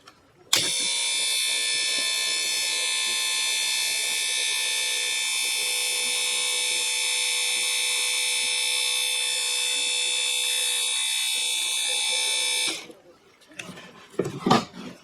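Refurbished quad winch motor running steadily, a loud sustained electric whine with buzzing harmonics for about twelve seconds, then cutting off, followed by faint handling noises.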